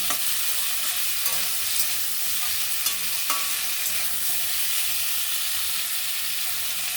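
Shrimp with chopped garlic, tomato, chili and onion sizzles steadily in a hot pan, a constant bright frying hiss with a few faint scrapes of stirring, close and even throughout.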